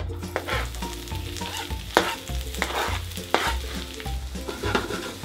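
Chopped and crushed ingredients hit a warm pan for homemade burgers, giving a steady close sizzle with stirring scrapes and a few sharp clinks from a utensil against the pan.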